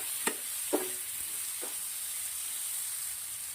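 Onions fry in a pan with garlic paste, hing and turmeric, giving a steady close hiss and sizzle with a few light stirring scrapes and no talking.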